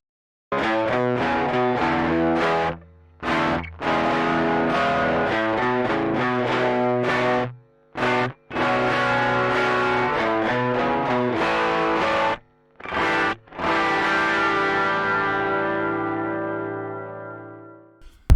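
An overdriven electric guitar plays chords and riffs with a swirling modulated shimmer, brief gaps between phrases, ending on a long ringing chord that fades.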